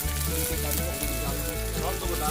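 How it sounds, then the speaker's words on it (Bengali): Onions sizzle and fry steadily in a pan over a wood fire for a village-style chicken curry, a loud continuous crackle with a low hum underneath. "পেঁয়াজটা ভাজা হতে দেয়"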